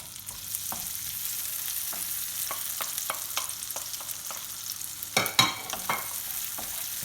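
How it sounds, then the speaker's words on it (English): Browned onion base stirred into hot ghee in a frying pan, a steady close sizzle with repeated scraping strokes of a spoon, and a louder burst of clatter near the end. "To that, we're going to add the browned onion base"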